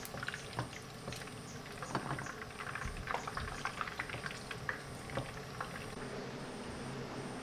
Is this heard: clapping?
no